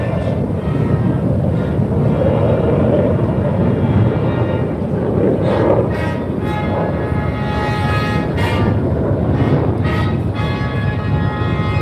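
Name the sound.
US Air Force Heritage Flight aircraft flying past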